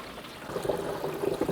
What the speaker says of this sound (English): Okay, I hear the water going in.